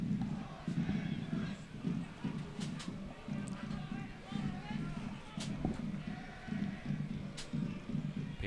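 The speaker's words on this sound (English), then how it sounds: "it's still a raucous crowd behind that goal over there with the Harbor City hooligans" Raucous soccer crowd behind the goal at a rainy Orlando City B versus Wilmington Hammerheads match, steady chanting and rhythmic drumming in the distance beneath a commentator's voice.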